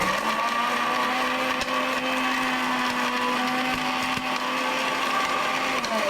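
An electric mixer grinder powdering spices, its motor a loud, steady high-pitched whine that holds evenly throughout with no talk over it.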